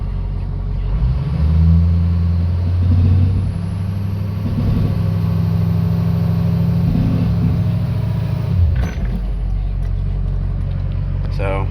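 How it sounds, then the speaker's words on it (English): Turbo on a 2006 Ford F250 Lariat 4WD spools under a power brake, a sustained loud engine drone with a faint rising whine, cutting off abruptly near the end; a voice is heard briefly. "We like to do like the power brake it to show you the turbo right there"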